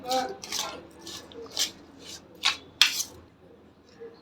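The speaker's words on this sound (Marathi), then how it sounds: "यामध्ये मी अजून एक चमचा दही ॲड करते" A spoon scrapes and clinks against a bowl as curd is added to a koshimbir salad and mixed in, giving a series of short, irregular clinks and scrapes with someone talking in between.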